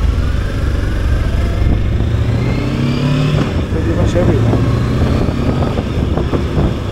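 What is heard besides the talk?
motorcycle engine pulling away, Voge 525DSX or Himalayan 450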